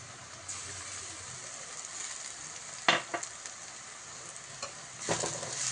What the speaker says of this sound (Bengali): পেঁয়াজটাকে এইভাবে লাল লাল করে ভেজে নিয়ে তার মধ্যে আদা রসুন বাটা দিয়ে দিলাম